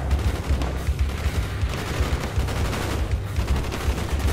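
Gunfire in the Black Ops video game: a dense, rapid stream of automatic shots and bursts over a low rumbling bed, loud and continuous throughout, with no talking.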